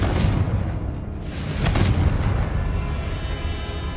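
A Confringo spell explosion in Hogwarts Legacy gives a loud, rumbling boom with crackling bursts, followed by a sustained low roar that fades only slightly.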